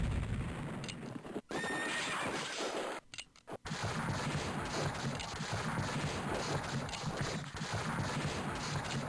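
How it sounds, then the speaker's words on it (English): Artillery cannon fire in the Civil War strategy game Civil War Generals II, a dense, continuous barrage of booming shots with brief drop-outs, heard alone without talk. "They're going to just ravage our cavalry with artillery once more."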